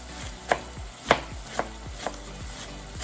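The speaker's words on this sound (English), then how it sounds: "Shred this as finely as possible." A sharp knife finely shredding cabbage on a cutting board for Belizean salbutes: four or five distinct, fairly loud chops spaced about half a second apart over a low background hum, with no talking.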